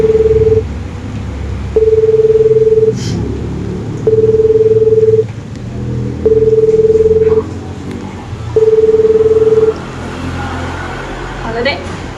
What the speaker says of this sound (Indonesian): akhirnya Rizka pun memutuskan untuk menghubungi adiknya yang bernama Putra untuk meminta bantuannya